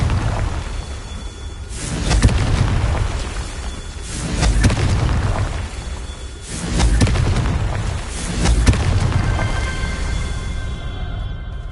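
A Confringo fire spell from the PS4 game Hogwarts Legacy sets off a series of heavy, rolling booms, each swelling and fading every couple of seconds over a loud, rumbling game soundscape, with no talking.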